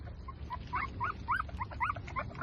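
Six newborn puppies left on a road whimper in short, thin, high cries that come in a quick irregular series, close but faint, over a low background hum.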